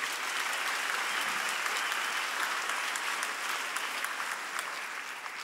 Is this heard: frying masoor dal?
no